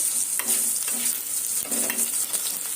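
Potatoes fry in a pan for egg pasta while being stirred, with repeated scraping strokes of a spatula over a continuous close sizzle.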